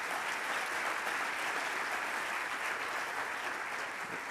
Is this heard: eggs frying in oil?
no